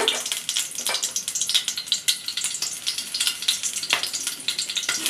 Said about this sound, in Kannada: ಬಾಣಲಿಗೆ ಒಂದು ಸ್ಪೂನ್ ಎಣ್ಣೆ ಹಾಕಿ ಇಟ್ಕೊಂಡಿದ್ದೀನಿ ಇದಕ್ಕೆ ಮುರಿದಿರೋ ಹಸಿರು ಮೆಣಸಿನ್ಕಾಯಿ ಹಾಕ್ತಾ ಇದ್ದೀನಿ ಸ್ವಲ್ಪ ಕಾಳು ಮೆಣಸು